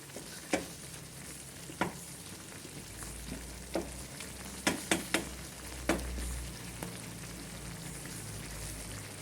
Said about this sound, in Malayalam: ഗ്രേവി നല്ല കുറുകി വന്നുകൊണ്ടിരിക്കുകയാണ്